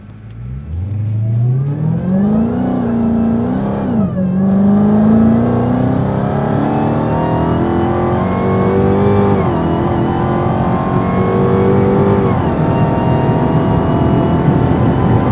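A 2020 Dodge Charger Widebody Hellcat drives with a loud, steady engine note that rises and falls as it accelerates through gears, continuous and close throughout with no talking.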